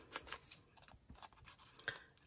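Quiet snips of scissors cutting masking tape to width, a few short crisp cuts close by in an otherwise hushed room.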